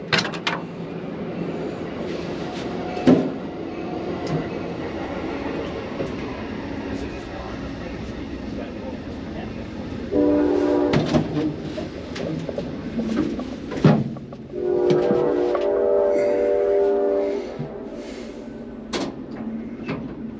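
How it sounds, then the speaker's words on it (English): A train rolls past with a steady rumble and clatter, sounding its horn in two long, loud blasts. Occasional knocks ring out nearby, and there are low murmurs between the blasts. "Wait for the train to go by."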